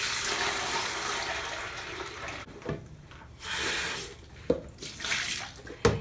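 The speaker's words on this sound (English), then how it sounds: "Next, dump the water out." Water from a breast pump kit's washing basin poured out into a sink, a splashing gush in bursts with short pauses, close and fairly loud.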